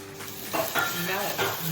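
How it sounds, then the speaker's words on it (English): Rolled chicken breast sizzles in a pan as alcohol boils off, making a steady close hiss with a few soft stirring and pan clinks over it, and no talking. "Quand l'alcool bout, when alcohol is boiling."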